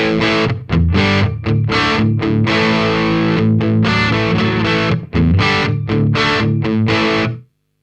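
Gritty overdriven electric guitar through a tube amp with an overdrive pedal plays a choppy riff of short, punchy chords and a few sustained ones, loud and close, ending with a quick stop.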